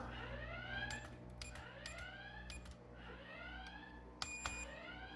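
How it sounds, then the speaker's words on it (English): A home security alarm system going off indoors, repeating rising electronic siren sweeps in a steady loop, loud and continuous with a brief sharper chirp near the end. "it's not a bad alarm system for the price"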